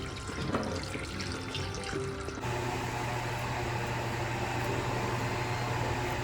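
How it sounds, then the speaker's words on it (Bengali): Tap water runs steadily into a sink to soak chicken in a home kitchen, a continuous close rush with a slight change in tone partway through and no talking. "এই যে চিকেনটা নামিয়ে জলে ভিজিয়ে রাখি"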